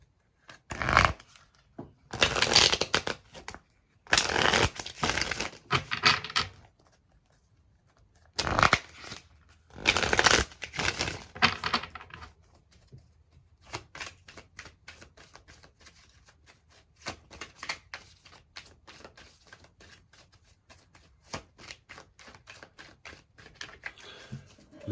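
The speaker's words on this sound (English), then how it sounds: "But let's go ahead and get into some shuffling." Tarot cards are shuffled by hand in several loud riffling bursts with short pauses between them, then a longer stretch of softer, irregular card patter and shuffling up close.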